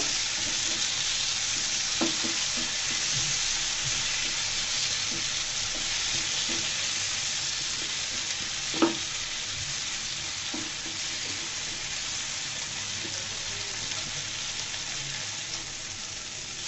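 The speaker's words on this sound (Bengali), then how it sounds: "টমেটোগুলোকে সুন্দর করে আমি ভেজে নিচ্ছি তেলের মধ্যে" Tomatoes fry in hot oil with a steady, dense sizzle that runs throughout, and a few soft stirring clicks break through it. Nobody talks. The tomatoes are being cooked for a Bengali cauliflower vorta.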